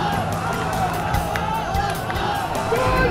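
A large crowd shouts provocative slogans and chants in a dense, continuous roar during a street clash with stone pelting in Patiala, Punjab, with individual yells and whoops rising over the noise.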